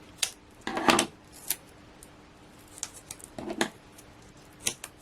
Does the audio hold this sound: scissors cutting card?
yes